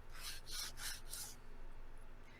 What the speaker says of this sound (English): You can sand your parts.